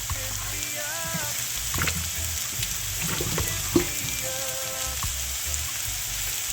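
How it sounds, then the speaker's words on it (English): Steady bubbling and sizzling from a pot of boiling potatoes on the stove, a constant busy wash of liquid noise with a few brief clinks. "I'm adding my potato to my pot. It's boiling up"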